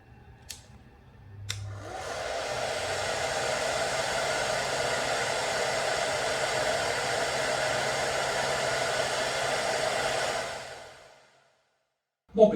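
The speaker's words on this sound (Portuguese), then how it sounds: "Eu vou ligar um aquecedor de cabelo apontado para o controle" A hair dryer is switched on and aimed at a Wi-Fi remote control with a temperature sensor, giving a loud, steady rushing blow for about nine seconds before it is switched off and falls quiet.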